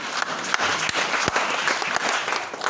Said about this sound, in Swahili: Piga Yesu makofi mazuri.